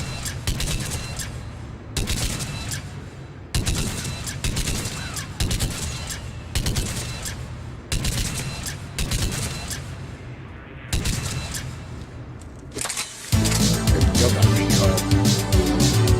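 Heavy gunfire bursts from a gun in the video game Mass Effect 3, loud repeated volleys separated by brief pauses, ending in a denser, louder stretch of in-game battle noise.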